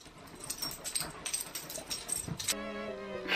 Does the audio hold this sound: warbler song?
no